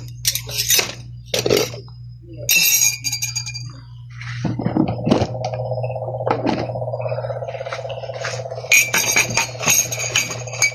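Drinking glasses clink and knock together as they are picked up and set down, sharp bright chinks in irregular bursts, close and loud, with a steady hum underneath.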